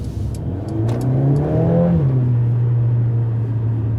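A 2020 Mercedes-AMG CLA 45 S engine revs up with a deep rising growl, then settles into a steady droning hum, loud and close, with a few faint clicks early on.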